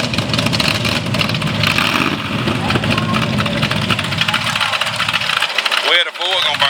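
A drag racing car at a Hook City 1/8 mile drag strip in a Ford versus Chevy matchup performs a burnout, loud continuous engine roar with tire noise, and voices are heard over it near the end.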